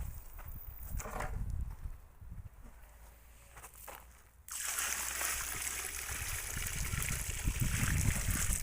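Water poured into a planting hole for a grapevine on the site of an uprooted vine: soft shuffling at first, then a sudden loud, steady rush and splash of water that continues to the end.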